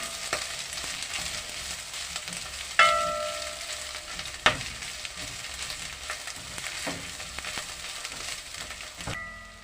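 Green and red peppers frying in a pan for a spaghetti bolognese, with a steady close sizzle and occasional sharp clacks from a utensil stirring and turning them. No voices.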